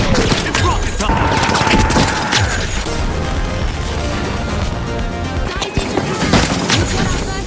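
Rockets are fired in a hectic video game match, with dense bursts of blasts, crashes and gunfire piling up loudly throughout, and an excited voice talking over the action.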